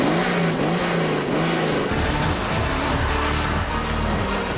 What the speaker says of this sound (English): the petrol car has roared off to an early lead.